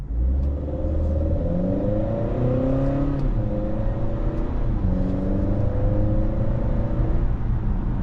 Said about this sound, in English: Vehicle takes off, the 10-speed automatic shifting smoothly as we go down the road.